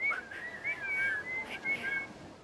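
A woman whistles a short, wavering, breathy tune during a 1991 live TV show, faint and close, the pitch sliding up and down in a few uneven phrases with small gaps between them.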